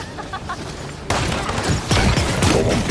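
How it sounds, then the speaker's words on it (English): Enemy gunfire in the Paladins video game comes as a rapid fusillade that turns louder and denser partway through, layered with game effects. "Enemies are firing on me!"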